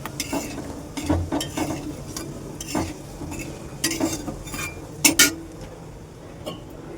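Spices fry in oil in a kadai while being stirred, an irregular series of scraping strokes and metallic clinks over a low sizzle, close by, with a few sharper bursts near the end and no speech.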